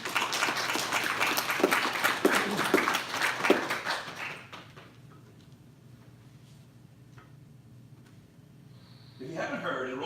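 A crowd applauds loudly for about four seconds, then the clapping cuts off, leaving quiet room tone before a voice starts near the end.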